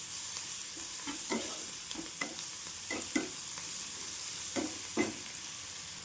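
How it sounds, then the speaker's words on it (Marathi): Soya pulao with coriander is sautéed in a pan, a soft steady sizzle broken by repeated scraping stirs of a spatula at irregular intervals, close and quiet, with no voices. "कोथिंबीर टाकून घेते आणि छान एकदा परतून घेते."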